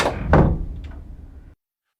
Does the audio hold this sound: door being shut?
yes